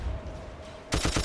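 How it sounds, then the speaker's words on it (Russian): Machine-gun fire in Battlefield 1942 with a Star Wars mod starts abruptly as a rapid, loud burst of repeated shots after a short quieter stretch of game ambience. "Сейчас я за пулемет сяду."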